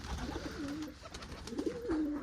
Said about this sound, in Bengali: চারটে বাচ্চা কবুতর একসাথে বসে আছে গাইস